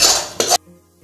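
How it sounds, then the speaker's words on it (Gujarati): A thick, healthy mawa gundpak mixture is tipped out of a pan onto a plate: a short, close scraping clatter in two quick strokes lasting about half a second, followed by near silence. "હવે આપણું મિશ્રણ તૈયાર થઈ ગયું છે જેને આપણે પ્લેટમાં ઢાળી લઈશું."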